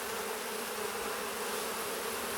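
Honey bees buzz densely around a hive frame being slowly lifted from the box, a steady, close, continuous droning hum with no pauses and no talking.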